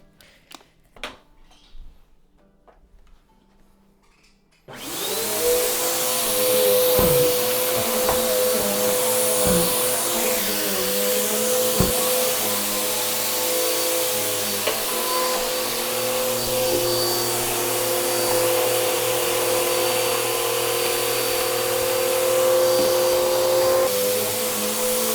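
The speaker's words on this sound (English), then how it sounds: "That's the vacuuming done." A vacuum cleaner runs through a second bedroom, switching on abruptly after a few quiet seconds and then droning loudly and steadily to the end, its motor tone holding constant with occasional bumps and rattles as it moves.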